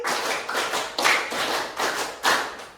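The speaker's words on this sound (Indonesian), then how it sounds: "Tepuk 5 2 kali" Students in a classroom clap a rhythmic pattern in unison: quick sets of claps separated by short pauses. The claps come across crisp and close.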